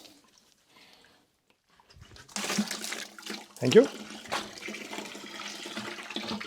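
Rusty coolant water gushes and splashes steadily from a Citroen XM 3.0 24V engine after a quiet start, with a brief clatter midway and a short spoken phrase.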